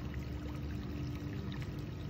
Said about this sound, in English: thanks for the sound of running water